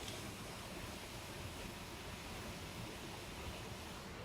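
Heavy waterfall on the North Shore during waterfall season, a steady broadband rushing roar like strong wind, continuous and even throughout with no talking.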